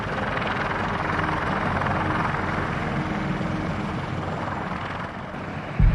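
A CH-53E Super Stallion heavy-lift military helicopter roars steadily up close, a dense, loud rotor and engine drone that stays constant throughout with no voices.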